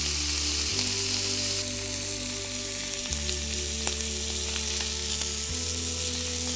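Beefsteak sears in hot butter in a Brabantia frying pan, giving a steady, loud sizzle that runs without a break under a low hum, with faint clicks scattered through it.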